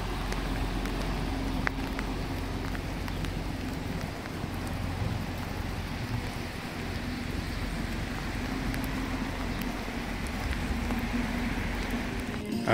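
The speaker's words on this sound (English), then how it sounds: "and it's raining." Steady rain falls on a boat during a trip off the Anatolian coast of Turkey, a continuous dense patter mixed with low rumble, close and even throughout with no talking.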